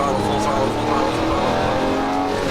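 Lamborghini Murcielago LP640 engine held at full throttle on Las Vegas Speedway, a loud, sustained, steady roar from close by.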